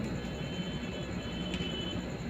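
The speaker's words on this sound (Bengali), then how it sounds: "ওদিক দিয়ে মেট্রো ট্রেন যায়" A Kolkata metro train runs along an elevated flyover overhead, heard as a faint, distant, steady rumble with a brief metallic tone near the end.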